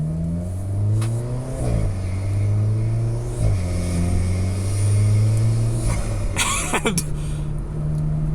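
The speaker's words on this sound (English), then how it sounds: "those turbo wastegate noises are so pronounced because of the intake" Sports car engine, a Porsche 718 Cayman S or Alfa Romeo 4C Spider, droning steadily under load with pitch sweeps as it shifts, then a sharp turbo wastegate hiss and flutter burst near the end, a few words spoken over it.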